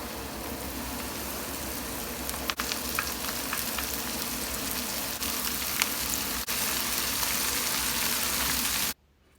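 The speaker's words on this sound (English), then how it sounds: "I'm going to be frying it into batches" Steady loud sizzling and crackling of beef pieces frying in hot oil in batches, a few sharp pops over the top, cutting off abruptly near the end.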